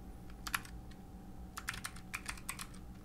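Keystrokes on a computer keyboard while code for an Android flashlight app is written in Android Studio: quiet, irregular bursts of light clicking taps, close by, with no one talking.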